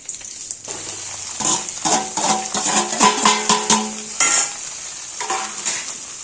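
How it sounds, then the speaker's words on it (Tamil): Liver frying in a pan with onion, tomato and chilli, a steady broadband sizzle with repeated scraping and stirring strokes of a utensil against the pan, close and fairly loud, no talking. "Liver fry."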